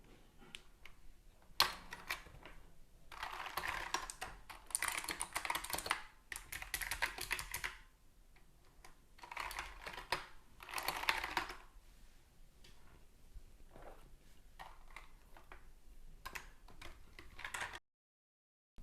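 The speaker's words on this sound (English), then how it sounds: "the inside casting also has a layer of foam to absorb the pinging noises when you bottom out keys" Rapid clacking of Razer Huntsman V2 mechanical keyboard keys, with foam inside the case, in several bursts of fast typing with short pauses between, close and fairly quiet, no voices.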